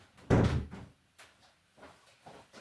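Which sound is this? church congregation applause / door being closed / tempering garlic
door being closed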